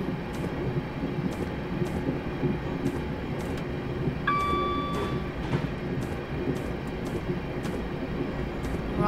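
A cargo train passes in Train Simulator 2015 on the West Coast Main Line, a constant rumbling roll with periodic clicks from the wheels and a short tonal horn-like note midway.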